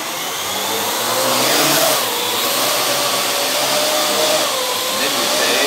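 The propeller motors of a Parrot AR Drone run at close range, giving a loud, continuous, whining whir that rises and dips slightly in pitch. No speech is heard.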